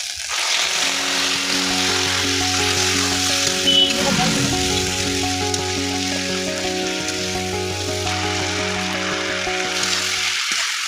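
Water splashed into a pan of frying vegetables in a Bengali village kitchen, a steady broad sizzle and hiss that runs throughout, with a low droning hum underneath.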